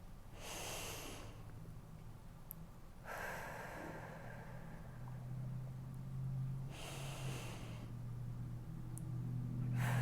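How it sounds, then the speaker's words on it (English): Slow, deep breaths drawn in through the nose and let out during a lymphatic massage after a tummy tuck, three soft airy breath sounds spaced a few seconds apart over a low steady hum. "Big deep breath in"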